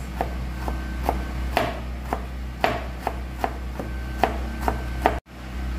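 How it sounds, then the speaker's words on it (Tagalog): A knife chops ginger into very thin slices on a board for Chinese-style steamed grouper. About a dozen crisp, evenly spaced taps sound close and clear over a low steady hum, then stop abruptly. "Gayatan po natin ang luya ng sobrang ninipis."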